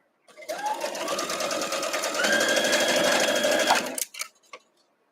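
A sewing machine chain pieces a quilt block, running in one steady, close, fast whir for about three and a half seconds before it stops, followed by a few short clicks.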